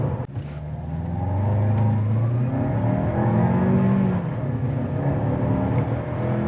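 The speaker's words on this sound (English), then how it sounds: "That was brake torquing it in sport mode, but completely automatic." A 2021 Lexus NX 300 engine revs up hard and holds at high RPM during a brake-torque launch in sport mode, a loud, close, sustained roar with shifting pitch as it launches.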